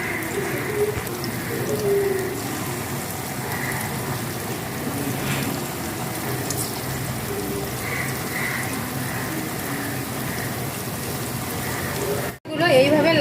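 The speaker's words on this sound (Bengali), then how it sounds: "কোপ্তাগুলিকে উল্টে পাল্টে লালচে করে ভেজে নেব।" Jackfruit koftas fry in hot oil in a wok, giving a steady, dense sizzle like rain that runs unbroken throughout, dropping out for a moment near the end before returning.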